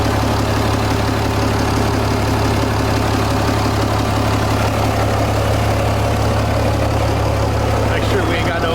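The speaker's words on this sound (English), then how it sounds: "Sounds real good. That's a straight pipe right there." A 6.7 Cummins diesel swapped into a second-gen truck idles with a straight pipe exhaust and hood stack, a loud, steady low rumble with a rough knocking pulse that holds throughout, close by.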